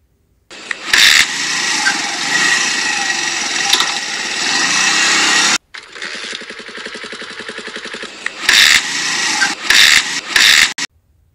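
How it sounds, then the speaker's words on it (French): Motorcycle being kick-started, loud harsh bursts of a small engine catching and revving in short spurts, cutting out and restarting several times, close to the listener. "un extrait de démarrage au kick de moto"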